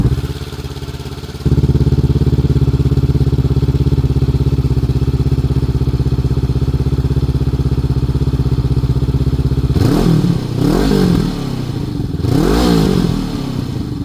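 A Honda 500-class twin motorcycle with a 350mm Black Widow silencer, baffle fitted, holds a steady, throbbing idle before three sharp throttle blips rise and fall near the end.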